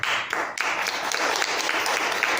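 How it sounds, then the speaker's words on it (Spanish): A church congregation bursts into loud, sustained applause after a prayer, dense clapping filling the space steadily from start to finish with no talk over it. "Denle un fuerte aplauso al Señor."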